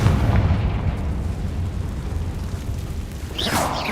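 A Confringo fire spell explodes in the video game Hogwarts Legacy, a dull rumbling boom with crackling debris that rolls on steadily at moderate loudness, and a brief whooshing burst near the end.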